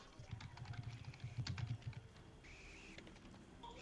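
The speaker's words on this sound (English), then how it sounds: "I'm typing in the chat." Quick, uneven keyboard typing, a close flurry of clicky keystrokes that pauses near the end, with faint background hum.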